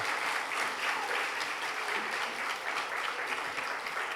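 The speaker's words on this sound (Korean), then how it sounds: "다시 한번 하나님께 영광의 박수 하겠습니다" A church congregation applauds in praise, a dense, steady wash of many hands clapping at moderate distance that holds evenly throughout, with no voices rising above it.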